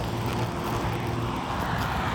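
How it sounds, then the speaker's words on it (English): Cars passing by outdoors make a steady, continuous low road rumble that fills the whole stretch at a moderate level, with no voice heard over it. "Sorry if you can't hear some cars going by."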